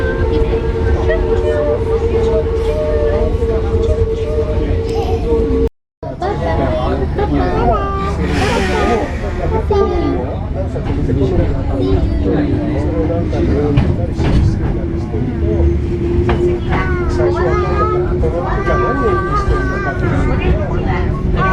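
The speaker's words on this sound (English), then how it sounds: "And the train is taking a curve," A train takes a sharp curve on a Japanese railway, its steady rumble carrying high wheel squeal that rises and drifts throughout, with a brief cut partway and murmuring passenger voices in the background.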